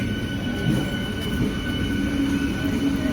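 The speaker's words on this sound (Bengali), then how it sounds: "আমাদের বারাসাত লোকাল এই বেরিয়ে যাচ্ছে।" The Barasat local passenger train pulls out of Hasnabad station with a loud, continuous rumble. High metallic wheel squeals run through it and no one speaks.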